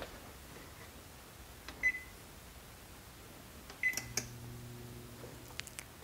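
Kitchen oven control panel emitting a few faint, short electronic beeps and soft button clicks as it is set to 350°F, spaced out in a quiet room.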